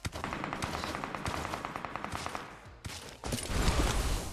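Gunfire in the shooter game PUBG Mobile, a rapid automatic burst of evenly spaced shots that pauses briefly and then gives way to heavier, louder blasts close by.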